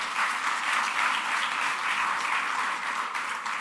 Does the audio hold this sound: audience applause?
yes